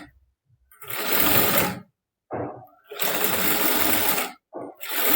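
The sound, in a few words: sewing machine double-stitching a blouse sleeve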